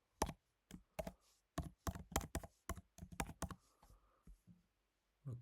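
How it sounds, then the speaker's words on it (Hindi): Someone types an email address on a computer keyboard, producing quick bursts of crisp key clicks in uneven clusters with short pauses between them, close and fairly quiet with no talking. "उसको मैं टाइप कर लेता हूँ"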